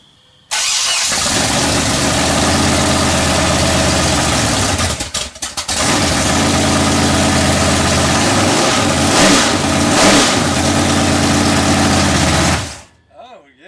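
A freshly built 427 big block engine fires up in a garage and runs loud and close, revving repeatedly over a steady rumbling idle before cutting off near the end, with people talking briefly over it.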